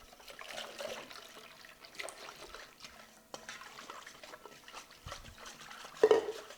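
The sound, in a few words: stirring flour batter with water in a bowl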